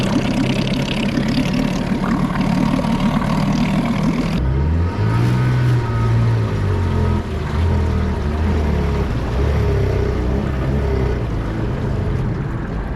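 A 1966 Appleby boat's engine runs steadily while afloat on water, a continuous low motor drone with a shift in tone partway through, loud and close throughout.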